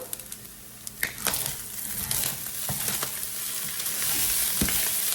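Fried rice crisping in a hot pan, a steady close sizzle that grows gradually louder, broken by occasional scraping and tapping of a utensil against the pan.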